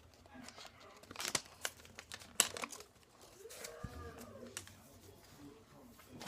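Paper is folded and creased by hand while shaping a paper hat for a boat, giving close crinkling and sharp rustling bursts in short irregular bursts.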